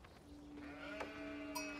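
A single sheep bleat in the video game Age of Empires 4, a wavering, quiet cry with a short bright click near the end.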